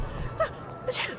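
A single short sneeze from a Dishonored game cutscene bursts out over a low background hum, brief and moderately close.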